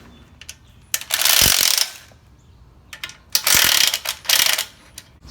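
Valve cover coming off a Honda engine on a walk-behind lawn mower, heard as a few close, sharp metallic clicks and rattles followed by three louder bursts of scraping and clattering, with short quiet gaps between them.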